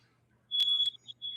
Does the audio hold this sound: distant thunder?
no